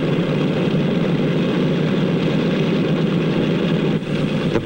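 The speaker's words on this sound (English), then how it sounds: "The plane starts over to the runway." A 1948 propeller airliner taxiing toward the runway, its piston engines droning steadily and loud with a heavy low rumble, unbroken throughout with no voices.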